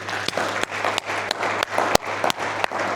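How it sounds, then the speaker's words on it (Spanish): Church congregation applauding in praise, a dense sustained patter of many hands clapping with sharp individual claps standing out, fairly close and continuous for the whole stretch, with a low steady hum underneath. "Vamos a un aplauso al Señor."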